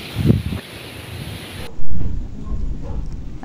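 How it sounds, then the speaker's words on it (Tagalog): Strong wind on Mount Love, a hilly viewpoint near the Chocolate Hills, buffets the microphone in a loud, rumbling roar that swells and gusts, with a heavy blast partway through and no talking. "Ang lakas ng hangin talaga"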